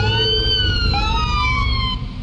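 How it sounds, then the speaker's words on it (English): A police car siren in the Police Simulator: Patrol Officers video game gives a loud, close electronic wail with rising and falling sweeping tones over a low engine rumble, sounding steadily with no talking. "Let's see if we give her a blast of our siren here."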